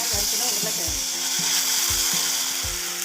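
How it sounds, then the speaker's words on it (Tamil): Mustard seeds frying in hot oil make a loud, continuous sizzle, with regular low thuds about every half second underneath. "எண்ணெய் காஞ்சதும் ஒரு 1/2 டீஸ்பூன் கடுகு போட்டுக்கலாம்."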